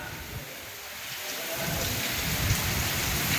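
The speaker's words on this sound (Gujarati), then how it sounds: "બહુ તોફાન છે આખી રાતથી આવું આવે છે આજ તો" Steady heavy rain from a night-long storm pours down with low rumbling thunder rolling underneath, continuous and dense throughout.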